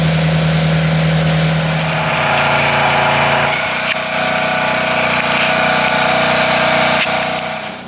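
A tractor engine runs loudly and steadily nearby, its rumbling tone shifting partway through and staying close and constant.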